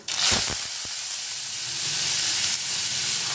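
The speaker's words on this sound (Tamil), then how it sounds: "சோம்பு பொரிஞ்சதும் வெங்காயம் சேர்த்துக்கலாம்" Chopped onions drop into hot oil with fennel seeds and sizzle, a sharp initial crackle and spit followed by a steady, close hissing fry that carries on without voices.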